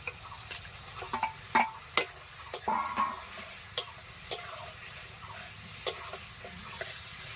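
Washed chicken stirred into spice paste fried in a pan for a Bengali jackfruit (echor) chicken curry, sizzling softly under repeated sharp clicks and scrapes of a spoon against the pan, with no talking.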